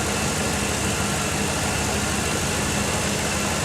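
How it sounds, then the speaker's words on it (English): A truck engine idling while running on hydrogen gives a steady, unbroken mechanical drone that stays loud and even throughout, with no voices. "So the truck's running on hydrogen right now."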